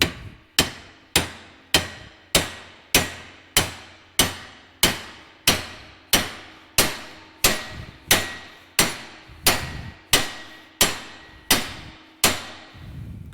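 Steady hammer blows drive a chamfered bush into a Hagglunds BV206 track tensioner, about sixteen loud metallic strikes in an even rhythm, each ringing briefly before the next, close and with no talking.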